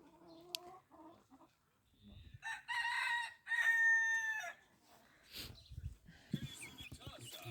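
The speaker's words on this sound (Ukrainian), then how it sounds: "Курочка і півник, ну і там ще марани курчатка." Rooster crows and chickens cluck on a small backyard farm, the crow rising in loud bursts among softer scattered clucks, with a person talking quietly between the calls.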